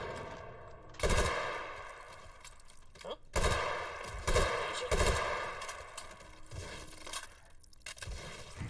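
Rapid gunfire bursts in the H3VR video game while shooting Sosigs, loud sharp shots in quick clusters and short volleys with pauses between, over a constant background hum.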